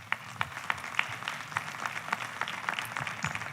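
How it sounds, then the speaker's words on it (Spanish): An audience at an artificial intelligence panel gives applause for the panelists, a faint, scattered patter of claps heard from a distance. "Les pido por favor que les brindemos un fuerte aplauso."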